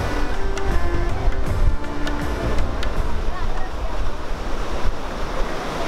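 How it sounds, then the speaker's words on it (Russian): Ocean waves break on a shore in India, a steady, close surf roar with wind buffeting the microphone and faint voices in the background. "Зато все сидят, наслаждаются видом волн."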